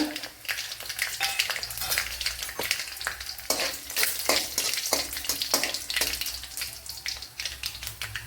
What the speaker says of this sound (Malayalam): ഒരു 2-3 വറ്റൽമുളക് ഇട്ട് കൊടുക്കുക.